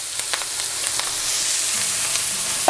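Chopped onion and spring onion hit hot oil in a pan, giving a steady broad hiss of frying with faint scattered crackles and the odd light utensil tap, close and without speech.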